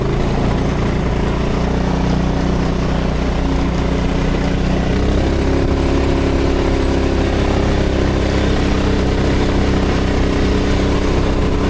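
A turbocharged 390cc golf cart engine revs loudly and steadily up close, its droning tone climbing as the throttle rises, with no talking over it.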